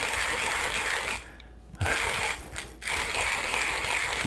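A 1Zpresso KPlus manual coffee grinder crunching beans in a dense, continuous ratcheting grind, close and steady, broken by two brief pauses in the cranking.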